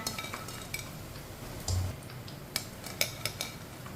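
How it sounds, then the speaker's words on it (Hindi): Freshly fried pakoras being set onto a plate, with soft clinks and taps of utensils against a dish, a few sharp clinks standing out near the end, close by and fairly quiet. "इसे प्लेट में डाल लेते हैं।"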